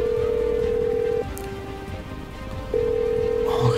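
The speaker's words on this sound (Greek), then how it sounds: "Τόσες φορές χτύπησε και δεν απαντάει." A phone in the GTA RP video game rings unanswered, a steady electronic tone that sounds for over a second, pauses, then resumes, loud and close, with no voices over it.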